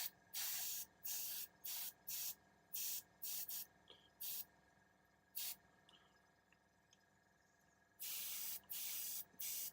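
An airbrush sprays paint onto a miniature titan in short, sharp hissing bursts, a regular run of spurts, then a pause, then a few longer sprays, with a quiet background in between.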